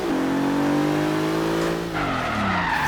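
Tires of a 900 hp Bentley Bentayga skid and squeal in Forza Horizon 3, a loud sustained screech riding over a droning engine whose pitch sweeps upward, then drops and shifts for the last second.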